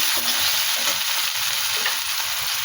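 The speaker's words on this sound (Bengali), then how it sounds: "তারপরে টমেটোগুলো দিয়ে দিলাম, গ্যাসটাকে কমিয়ে দিলাম। আস্তে আস্তে ভেজে নেব।" Tomatoes fry slowly over low heat in a pan, giving a steady, close, even sizzle that hisses on without a break and without voices.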